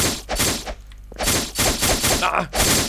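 Roblox Blox Fruits combat gunfire, loud close bursts of rapid shots in several separate volleys with brief gaps between them.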